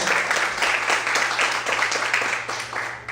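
Steady applause from a large church congregation, dense continuous clapping that holds evenly for a few seconds with no voices on top.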